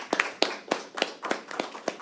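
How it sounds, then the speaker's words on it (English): A small round of applause at a county commissioners court meeting, with several quick, distinct handclaps in an uneven rhythm, fairly close and not very loud. "these guys want to give you guys a round of applause for your hard work"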